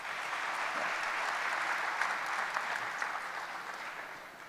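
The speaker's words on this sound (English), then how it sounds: "I would request you to once again welcome the eminent panel with a round of applause" An audience at a CFO round-table panel on technology, innovation and sustainability applauds in a sustained, even wash of clapping that holds steady and then tapers slightly near the end, no voices over it.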